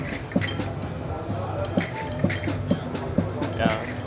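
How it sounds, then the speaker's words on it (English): A solenoid in a Bastl Instruments sensor setup tapping an object in a regular series of light metallic clinks, roughly one every half second, beneath background chatter and hum. "the solenoid doesn't go all the way through its body and it doesn't hit the object so hard"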